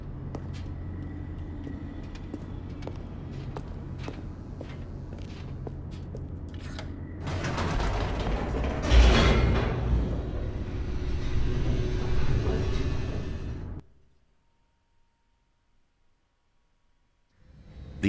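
An elevator plunges downward in Stanley Parable Ultra Deluxe, a heavy rising rumble and rattle building over several seconds after quieter ticking, then cutting off abruptly into near silence.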